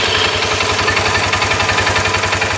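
A Polaris RZR 570 engine runs after being started with the brake light switch bypassed, idling with a close, loud, steady rapid chugging pulse and no talk.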